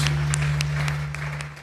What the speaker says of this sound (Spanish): regalar unas fuertes palmas a nuestro Dios.